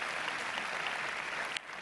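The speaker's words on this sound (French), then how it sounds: "on l'applaudit." Audience applause at a fireside-chat conference talk, a steady wash of clapping from a crowd heard at moderate distance, briefly punctuated near the end.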